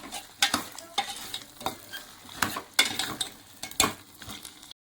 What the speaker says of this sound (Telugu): వెల్లుల్లి పేస్ట్ కూడా ఫ్రై అయిపోయింది. ఇప్పుడు దీంట్లో మనం పొటాటోస్ వేసేసుకుందాం.